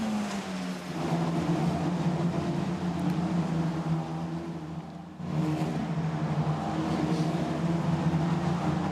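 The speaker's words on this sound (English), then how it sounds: "there you've got João Vieira fending off still the blue car of Rui Andrade" Formula Renault Eurocup race cars at Spa-Francorchamps give a steady, droning engine roar with a brief dip midway, heard from trackside at moderate distance.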